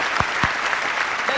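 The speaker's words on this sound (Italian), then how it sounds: "Un applauso alla nostra Roberta." A short burst of applause for Roberta, the show's makeup and hair artist, at a televised singing contest, a steady wash of clapping with a couple of sharper claps standing out.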